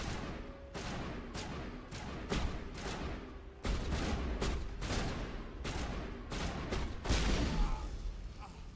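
Video game shotgun blasts go off in a rapid string of sharp, loud booms, one after another, over steady background game noise.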